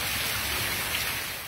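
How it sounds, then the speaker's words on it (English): Heavy rain pours down during Tropical Storm Elsa in St. Augustine, a steady dense hiss of hard-falling drops that stays loud and constant throughout, with no voices. "And you hear the rain there."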